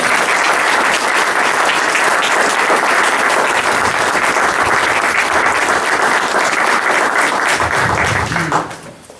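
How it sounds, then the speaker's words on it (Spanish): Loud, sustained applause from a church congregation, dense and continuous for several seconds before tapering off abruptly at the end. "Le damos un aplauso al Señor"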